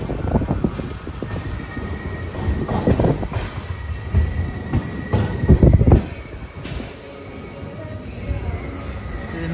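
A passenger train stopping at Nalgonda railway station gives rumbling wheels and carriage clatter, a few louder thumps and creaks, then a quieter steady hum, heard from onboard with faint talk in the background.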